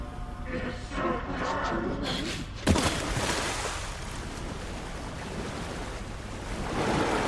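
Water and waves in the video game Alan Wake II, a steady broadband wash of surf and splashing that fills the whole stretch, with a sharp splash or impact near the middle and swelling again toward the end.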